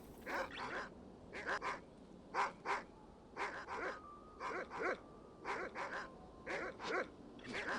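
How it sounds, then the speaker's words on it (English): Dogs bark repeatedly in the spy video game No One Lives Forever, a series of sharp single and paired barks spaced across the stretch, fairly distant and quiet, with a faint steady tone in the background. "Oh, now they're barking."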